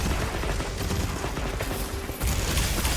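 Tetrad shot gunfire from Monster Hunter Wilds rattles out as a dense, rapid burst of mechanical shots over busy game noise, ending in a sudden louder swell.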